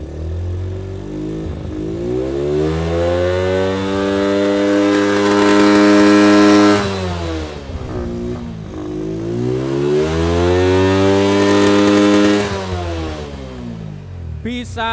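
An LPG-fuelled motorcycle engine converted from petrol revs hard twice, rising to a loud roaring peak, then dropping back to a lumpy idle between and after the bursts, close up.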